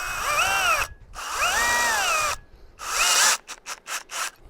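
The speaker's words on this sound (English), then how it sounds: "this will only work on a drill with a chuck" A power drill with a chuck whirs in a few bursts while building a gazebo, rising and falling in pitch as it spins up and slows, followed by quick short pulses of the motor.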